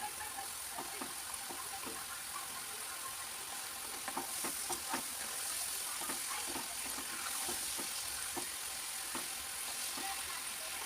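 Food frying in a pan gives a continuous bright hiss, with scattered pops and light crackles throughout.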